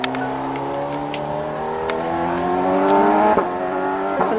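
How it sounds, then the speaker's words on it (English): A loud motorbike engine revs and drones steadily nearby, its pitch rising gradually as it accelerates past, dominating the scene with no talk over it. "That's a loud motorbike."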